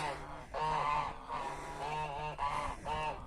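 Free-roaming farm geese honk repeatedly at close range, a run of loud, nasal calls in uneven bursts with brief pauses between them and no talk over them.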